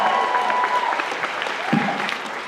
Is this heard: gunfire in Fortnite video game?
no